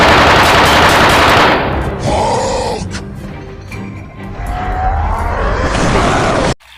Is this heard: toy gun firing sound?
yes